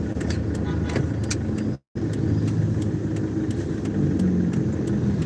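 Heavy road traffic in Ortigas, a continuous loud wash of car engines and tyre noise close by, with one brief cut to silence partway through.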